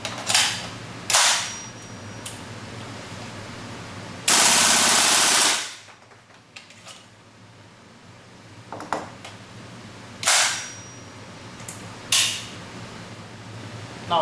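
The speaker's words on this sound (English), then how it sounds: "Now we want to test the 20 rounds magazine with full auto mode." WE M16 open-bolt airsoft rifle firing full auto with a 20-round magazine: several short, loud bursts of rapid mechanical clatter, one longer sustained burst near the middle, separated by quiet handling noise.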